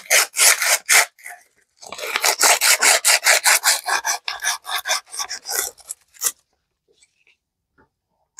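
Sandpaper rubbed hard against a metal part from a 179cc Craftsman MTD small engine, a close, rasping scrubbing in quick back-and-forth strokes, a short burst then a longer steady run before stopping into silence.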